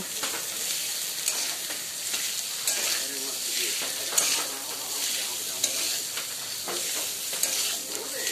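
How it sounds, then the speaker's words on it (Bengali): Potatoes stirred in hot oil with chili and coriander powder for aloo kachuri filling, a steady sizzle punctuated by repeated spatula scrapes and a few sharp clinks against the pan, close up with no voices. "সমস্ত কিছু তেলের মধ্যে একটু ভালোভাবে মিশিয়ে নিয়ে এর মধ্যে আলুগুলো দিয়ে দেব"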